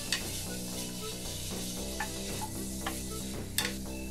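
Vegetables sizzle steadily in olive oil and butter over medium heat, a continuous close frying hiss with occasional scrapes and clicks of a spoon stirring the pan.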